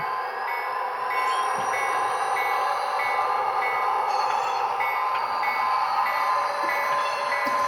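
An HO scale model train runs on a layout, producing a steady close motor hum with a rhythmic clicking that repeats over the track, and no talk.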